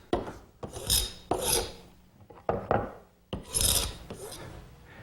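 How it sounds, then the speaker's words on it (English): Glue squeeze-out being scraped off a laminated oak blank in a series of rasping strokes, close and fairly quiet, with short pauses between passes. "The first step is to scrape off the glue that's squeezed out."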